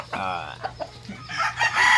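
A rooster crows nearby, a loud strained call, followed by clucking and other fowl noises in the background.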